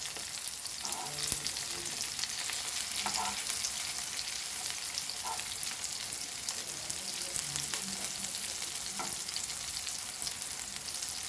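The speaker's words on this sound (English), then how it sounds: "let it fry now, nicely crispy" Breadcrumb-coated Goan rock crab claws frying in oil, a continuous soft sizzle and crackle with occasional faint clinks, steady and close.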